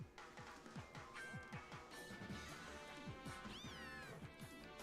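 A cat meows in Pokemon Ultra Sun, a single rising-falling call late in the sequence over busy game music with rhythmic beats.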